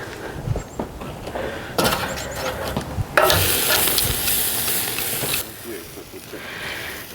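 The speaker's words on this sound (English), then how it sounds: "I'm gonna sear this." A steak sears on a Nomad grill, giving a loud hissing sizzle that swells abruptly at moments, with some speech and handling noise mixed in.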